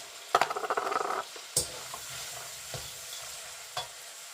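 Onions fry in a pan for a vegan curry, a soft sizzle under brief stirring clatters and scrapes of a utensil against the pan, with occasional isolated knocks.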